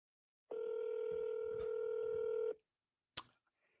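A single steady telephone tone sounds for about two seconds, clear and isolated in quiet, followed by a brief sharp click.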